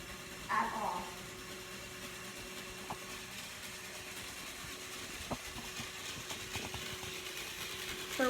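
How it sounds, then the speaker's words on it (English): A toy train engine's motor whirs faintly and steadily as its wheels spin in place without moving, a low mechanical hum with occasional small clicks and a brief knock early on, at a modest distance. "Her wheels are just spinning."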